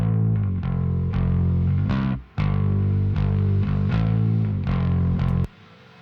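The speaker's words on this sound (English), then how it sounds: "This is a reverse reverb." Bass part run through a reverse reverb preset in denise audio's Perfect Room reverb, swelling sustained tones that surge in and cut off abruptly, with a brief gap midway and a dense, washy tail throughout.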